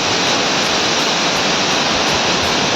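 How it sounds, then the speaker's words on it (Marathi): A steady, dense roar of rushing, falling water from a small waterfall swollen by heavy rain fills the whole clip at a constant loudness, with no voices. "हा एक छोटा धबधबा आहे"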